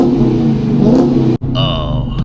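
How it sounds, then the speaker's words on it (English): Dodge Challenger engine revving close by, a loud rising roar that cuts off abruptly, then a second high-pitched rev with a sharp cutoff at the end, no talking. "Never forget to rev your engine when you start up your car."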